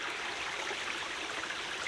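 A cold-weather hiking stream rushes and trickles as a water bottle is refilled, a steady close hiss of flowing water with no talking.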